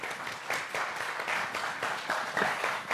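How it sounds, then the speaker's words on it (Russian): A seated audience at an evening talk show in Gomel applauds as a volunteer walks up from the hall: brisk, even clapping from many hands, fairly close and sustained, with no voices over it. "Под аплодисменты, конечно."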